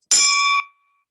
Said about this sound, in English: I want to start this Rotary meeting, meeting number 13, with the ringing of the formal Rotary bell.